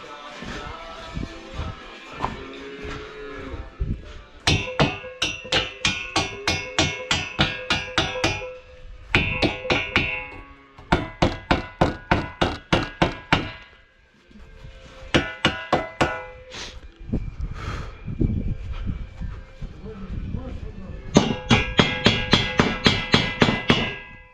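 A hammer chips welding slag in rapid runs of sharp metallic taps, several bursts separated by short pauses.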